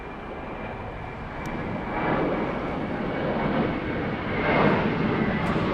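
A Saudia jet airliner arriving from Jeddah taxis toward its terminal gate at LAX, a steady broad engine rumble and whine that swells slightly as it passes, heard alone at moderate distance.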